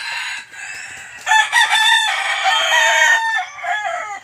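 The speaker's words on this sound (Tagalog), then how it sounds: "Yun yung tilaok niya idol" Wild junglefowl rooster crowing in a long harmonic call, followed by more overlapping crows and clucks nearby, fairly loud with no voices.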